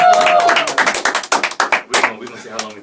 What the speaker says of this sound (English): Keep the slow clap going